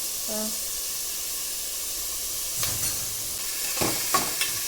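A curry is stirred in a home kitchen pan after salt goes in: a steady frying hiss with a few scraping spoon strokes near the end.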